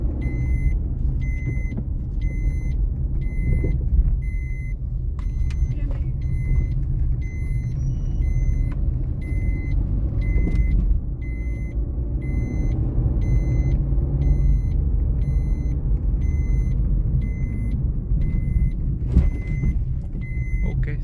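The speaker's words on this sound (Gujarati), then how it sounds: "તમને સસ્પેન્શન દેખાડી દઉં આ સ્પીડ બ્રેકર ઉપર આગળ." A 2017 Maruti Suzuki Ciaz VXi petrol sedan driving over a speed breaker, heard from inside the cabin as a steady low road and engine rumble with a few faint knocks and no clear talk.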